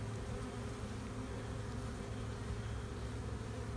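Honey bees buzz in a dense, continuous drone around a queen with attendant bees, steady and close with no pauses or voices.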